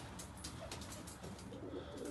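Pigeons, a white pair with grey-and-silver-eyed birds, coo softly nearby in a loft, low rolling calls repeating over faint background chirps.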